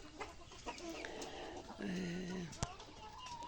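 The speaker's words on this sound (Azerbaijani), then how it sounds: "Yəni arxadan gələn səslər toyuqların səsidir." Chickens cluck in short, scattered calls while being fed grain at home, fairly soft and mixed with a faint voice and a steady background hiss.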